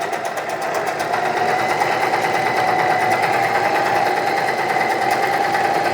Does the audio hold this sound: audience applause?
no